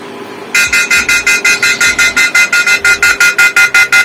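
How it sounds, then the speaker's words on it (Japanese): A wireless mini security camera sounds its alarm buzzer: loud, rapid, evenly pulsed electronic beeps, about five per second, repeating without pause. "このような形でブザーを鳴らすことができます"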